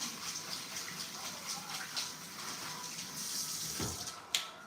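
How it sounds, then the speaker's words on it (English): Hands being washed under a running kitchen tap after handling pepper, a steady close stream of water splashing into the sink with a brief clatter near the end. "Let me wash my hands again."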